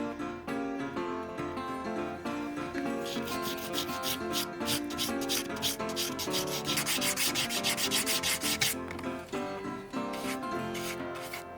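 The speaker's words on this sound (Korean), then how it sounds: "건조 후에 사포질을 하고 2차로 발라줍시다" Sandpaper rubs across a secondhand Celine handbag between coats of finish, a continuous scratchy back-and-forth rasp in fast, even strokes, close and alone.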